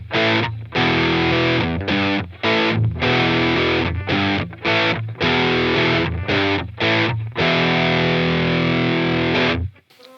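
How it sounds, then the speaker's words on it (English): An electric guitar played through a budget distortion pedal, drive set about halfway, producing loud, thick distorted chords and riffs in choppy bursts with short gaps between phrases, ending in a sudden stop. "So as you can hear, that's actually a really nice distortion"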